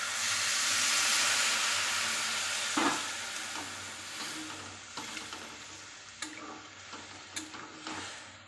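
Water hits a hot pan of spiced broccoli and potato curry with a loud, steamy hiss that gradually fades, followed by several distinct scraping and clinking stirs as the bubbling settles.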